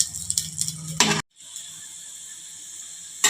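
A dosa-like flatbread fries in oil in a pan on a stove, giving a close, soft sizzling hiss with brief crackles and a short stir-like burst, then a steady quieter sizzle.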